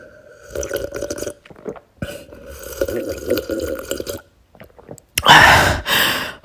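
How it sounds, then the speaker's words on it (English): Someone sips and swallows drinking water up close, with wet slurping and gulping sounds in short bursts and a louder splashy swallow near the end. "Let me sip on some of this water."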